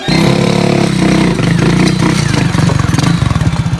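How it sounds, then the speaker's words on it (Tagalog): A motorcycle engine revs hard and loud up close, its throbbing pulse speeding into rapid chugging bursts. "naglugos og tungas ang motor"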